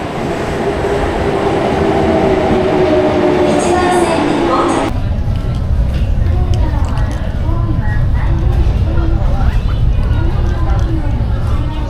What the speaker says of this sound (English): JR train